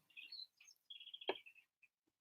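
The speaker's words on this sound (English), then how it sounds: "the birds tweeting outside" Birds tweet outdoors, a few short, high, thin chirps and trills spaced across a quiet background, faint and somewhat distant with no talking.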